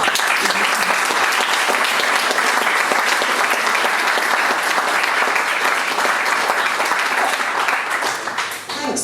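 A room full of people at a book launch breaks into sustained, loud applause with dense clapping and a few cheers throughout, tapering slightly at the very end.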